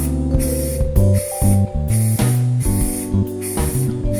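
Spray paint mists onto car headlight lenses during a restoration, heard as several short, close hissing bursts over a steady tonal background.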